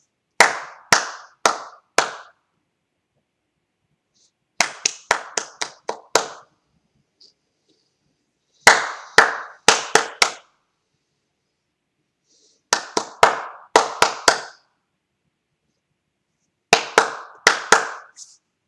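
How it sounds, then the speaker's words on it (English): Crisp hand claps tap out short rhythmic patterns for a fourth-grade music lesson, five separate groups of close, sharp claps, each phrase followed by a few seconds of silence. "I'm not going to say the rhythm syllables. I'm only going to clap."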